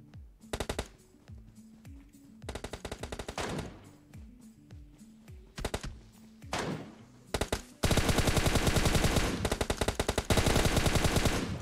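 Automatic rifle fire from PUBG Mobile rattles in repeated short bursts separated by pauses, then turns into a long, continuous loud stream of shots near the end.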